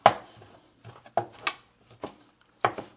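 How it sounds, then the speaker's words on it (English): Fresh basil being cut with a kitchen knife on a board, a handful of sharp, separate knocks spaced irregularly with quiet gaps, close and crisp with no talk. "I'm just going to chop this basil up."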